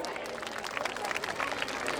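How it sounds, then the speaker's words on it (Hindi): An audience at a Dussehra celebration in Gwalior applauds to greet a guest, a steady patter of many hands clapping at moderate distance that holds for the whole moment. "कृपया ताली बजाकर आपका अभिनंदन करें।"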